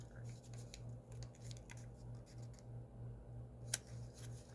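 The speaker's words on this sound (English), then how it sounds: "Listen to the fold." Origami paper being folded into a crane makes soft, faint rustles and crisp creases close by in a quiet room, with one sharp crackle of a fold near the end.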